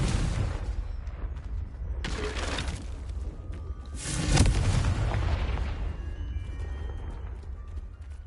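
Confringo spell blasts in Hogwarts Legacy, a few loud booming explosions with long rumbling tails layered over a busy game background, no voices.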